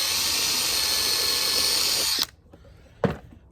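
A power drill pre-drills a pilot hole in wood for a cheap DIY planter box, a loud steady whine running for about two seconds before cutting off, then a short sharp clack near the end.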